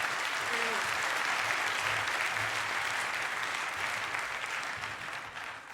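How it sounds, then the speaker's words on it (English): Sustained audience applause at a 38C3 conference talk, a dense wash of clapping that holds steady and begins to thin toward the end, with a faint voice early on. "Please, big applause to Lars."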